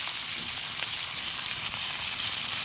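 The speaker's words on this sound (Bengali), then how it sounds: "মাছটা ভাজা হোক তারপরে উল্টে দেবো" Pieces of catla fish fry in hot oil, giving a steady, dense crackling sizzle that holds evenly throughout without voices.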